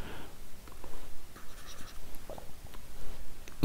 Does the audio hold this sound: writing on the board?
yes